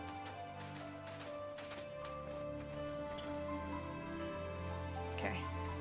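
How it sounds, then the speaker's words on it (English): Light rain patters in The First Tree, a faint even hiss beneath droning game music, with one brief brighter splash near the end and nobody speaking. "It do be raining a slight bit."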